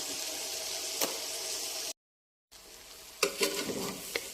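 Raw rice grains frying dry in a pan as part of a spicy dish, a steady crackling sizzle with a couple of sharper stirring scrapes, broken by a brief silent gap.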